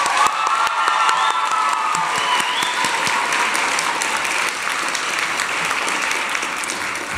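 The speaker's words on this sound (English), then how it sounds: "Round of applause for Ken." Loud, sustained applause from an audience at a 2023 teen press conference fills the room, with dense, continuous clapping and a crowd murmur underneath.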